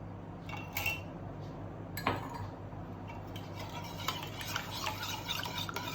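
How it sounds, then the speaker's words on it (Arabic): A dough mixture with oil stirred in a bowl, soft scraping and light clinks of a utensil against the bowl, fairly quiet with a low background hum. "احنا هنقلب بس الخليط كده شويه مع بعض"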